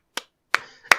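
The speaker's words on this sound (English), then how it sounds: "And okay, and the clap." Three crisp, close hand claps, sharp and dry, spaced irregularly across a second of otherwise silent air.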